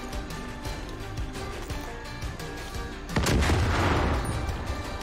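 Gunfire in the video game Far Cry 5, a loud burst of shots and booming blasts near the end over a steady, busy game soundscape, heard alone without talk.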